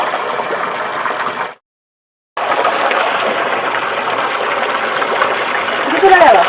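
Pure mountain spring water gushing straight out of the ground at a temple site, a loud, steady rushing flow close by, broken by a brief silent gap, with a voice talking over it.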